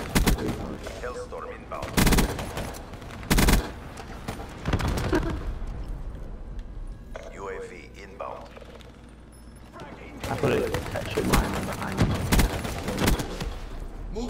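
Scattered video game gunshots with a few sharp, loud bursts and stretches of fire from a camping player's weapon, heard among game ambience while players chat over it.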